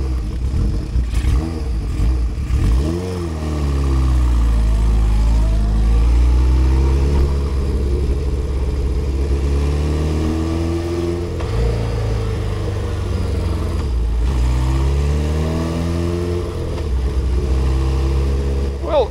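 A Honda CB750 cafe racer motorcycle engine, a rebuild project, idles loud and close, then revs up and falls back twice in rising and falling sweeps over a continuous rough rumble.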